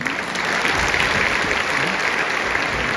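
An audience applauds at a televised tribute show, a dense, loud wash of many hands clapping steadily and evenly, sustained without pause.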